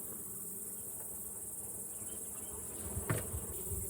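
Honey bees buzz around an opened, strong beehive during a hive inspection, a steady close droning hum throughout with a brief louder scrape or rustle near the end, without talk.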